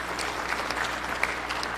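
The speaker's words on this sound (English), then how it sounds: "you can hold your applause because there's a number of them that I'm going to be introducing" Applause from the gallery of the Hawaii State Senate chamber during a floor session, a steady, continuous patter of many hands clapping at moderate loudness with no voices over it.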